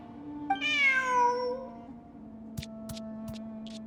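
A cat meows once in Genshin Impact: a clear, rising-then-falling meow over a steady game ambience, followed by a few soft clicks.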